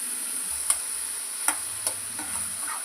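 Ginger paste stirred into a tomato curry in a pan for sorakaya tomato curry, a steady hiss of sizzling frying with a few sharp spoon-scrape clicks against the pan; no talk.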